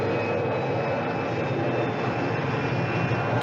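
Airplane engine from the film Dr. Strangelove, a loud, steady, broadband roar that drones on without a break and without voices.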